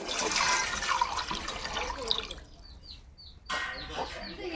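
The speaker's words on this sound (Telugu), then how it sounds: "ఇందులో పాయసానికి సరిపడా నీళ్ళతో పోసేసుకుంటాను నేను." Water pours into a large pot on the stove, a splashing, gurgling stream that fades and then surges again, with someone talking over it.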